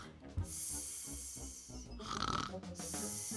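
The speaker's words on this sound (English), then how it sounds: "Is she snoring while she drinks that Coke?" A Roblox game character snores while sleepwalking and drinking a Coke, a steady rasping snore running under loud background music and game sounds through the whole stretch.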